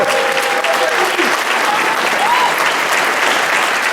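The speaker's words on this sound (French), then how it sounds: "je voudrais que vous fassiez un tonnerre d'applaudissements pour Camille Massiot" A thunderous round of applause for Camille Massiot at a radio station's 30th anniversary event, dense continuous clapping from a large crowd with a faint voice underneath.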